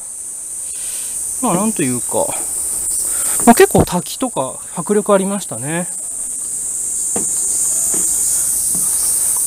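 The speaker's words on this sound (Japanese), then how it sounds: "セミ鳴いてますね。" Cicadas sing outside a cave in Okinawa, a steady high-pitched buzzing drone running throughout, with someone speaking Japanese over it in the middle.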